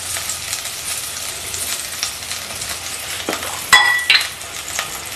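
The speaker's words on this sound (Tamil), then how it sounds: "நல்லா எண்ணெயில் வதங்கி இருக்குது" Herbs sizzle steadily in hot oil in a pan while cooking herbal rasam, a continuous close frying hiss with a few light stirring scrapes and clinks of a spoon near the end.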